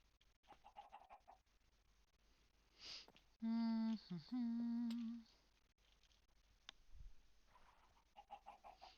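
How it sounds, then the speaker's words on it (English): Chickens cluck in the video game Wild Country. A couple of loud, drawn-out calls stand out in the middle, and softer clucks and quiet background sounds come before and after them. "The music of the chickens."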